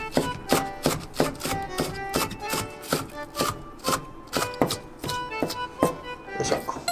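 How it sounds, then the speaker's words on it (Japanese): A knife chops green onions on a cutting board in quick, steady, evenly spaced strokes that sound close, crisp and loud, with no talking. "で、残りこんだけは刻んでいきます。"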